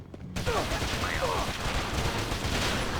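Gunfire in the Batman Begins video game erupts after a brief quiet moment, a dense barrage of rapid shots that continues loudly to the end.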